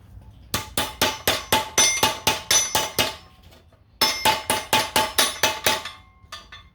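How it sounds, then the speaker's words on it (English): Metal clanks ring out as a hammer strikes an exhaust pipe being fitted on a 1985 Dodge D150 truck, two quick runs of about a dozen evenly spaced, sharp blows each, loud and close with a brief pause between. "Take the hammer."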